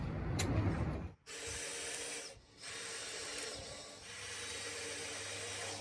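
Power driver running screws into leftover lumber while building a wooden ramp: steady whirring bursts broken by two short pauses, close and fairly loud, with no voices.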